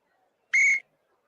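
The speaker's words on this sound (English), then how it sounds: "There's a whistle." A referee's whistle at a college basketball game gives one sharp, clear blast of about a quarter second, standing alone against near silence.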